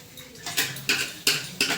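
Dishes clattering during washing, four or five sharp clinks of crockery and utensils spaced about a third of a second apart over a quiet background, close by.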